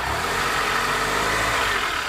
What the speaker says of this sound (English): if you can hear that rattle, that's because of the pistons